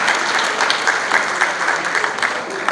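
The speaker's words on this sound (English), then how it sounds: "he should get another round of applause" A crowd claps steadily at a Ritz dance awards ceremony, a loud, continuous and fairly even wash of applause that fills the whole stretch with no speech.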